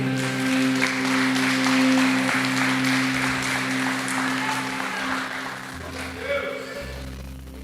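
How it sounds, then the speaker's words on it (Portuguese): Church congregation clapping and cheering on a Sunday service after the pastor urges everyone to stand, a dense wash of hands under sustained music and voices, fading toward the end. "Fique de pé, irmão. Aplauda o Senhor."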